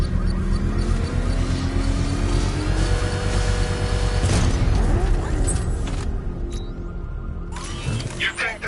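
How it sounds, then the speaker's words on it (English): A controlled bomb explosion in Gotham Knights, set off with a power winch, lands as one heavy blast near the middle amid a dense mechanical rumble and game noise. "I can use the power winch to trigger a controlled explosion"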